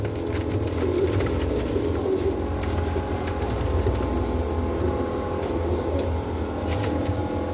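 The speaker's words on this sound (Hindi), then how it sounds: "यह गोल्डन कबूतर चेक करो," Golden pigeons cooing among a flock in a loft in Jhelum, a steady low murmur of overlapping coos with soft rustling throughout, no voices.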